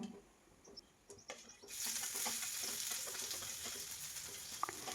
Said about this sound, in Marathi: जिरी मोहरी तडतडल्यानंतर त्याच्यामध्ये टाकला आहे कांदा